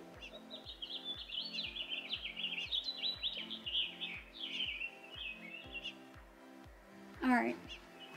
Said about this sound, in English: chat away, my birdies.